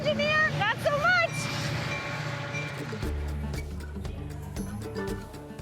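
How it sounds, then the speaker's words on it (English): Train rumbling through Elmhurst, Illinois, a heavy low roar that swells and holds steady, with a brief whistle-like tonal sweep early and people talking over it. "100 to 150 trains roll through Elmhurst every single day."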